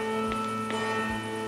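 A sustained bell tone rings in a video game, a steady, resonant hum with overtones holding throughout, with a couple of faint knocks beneath.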